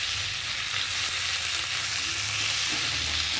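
Tomato, ginger and cumin paste masala frying in a pan, a loud continuous sizzle with stirring underneath and no talk.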